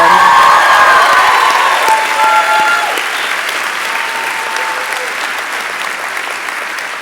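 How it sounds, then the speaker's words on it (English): A graduation crowd at Wilsonville High School claps loudly with some cheering at first, the applause gradually easing over about seven seconds but continuing to the end. "Let's give Fiona and George another round of applause."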